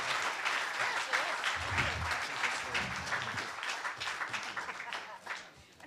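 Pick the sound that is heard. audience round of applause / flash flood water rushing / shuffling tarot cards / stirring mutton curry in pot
audience round of applause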